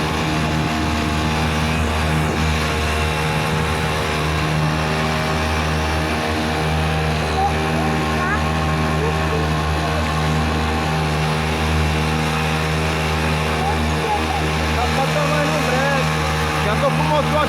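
Motorized bicycle with a Jet Turbo engine fitted with a silencer exhaust, held at full throttle: a loud, steady, droning buzz with strong even harmonics that runs continuously throughout without letting up.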